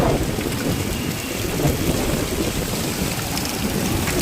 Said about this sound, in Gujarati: ફૂલ વાવાઝોડાની આગાહી સાથે વરસાદ ચાલુ.